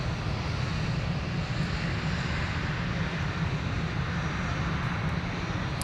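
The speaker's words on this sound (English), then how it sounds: "So taxiing on Whiskey is Delta 2145." Delta A321 airliner taxiing on a taxiway at Minneapolis–St. Paul airport, a steady moderate jet engine rumble heard from a distance, even and unbroken for several seconds.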